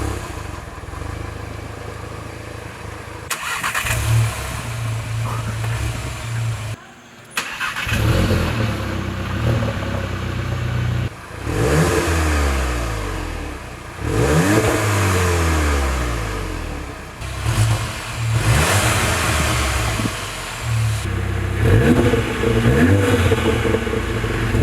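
An MK7 VW Golf GTI fitted with an AWE exhaust cranks and fires, settles into a loud idle, then gives several sharp revs that climb and fall back, with a brief silent gap early on.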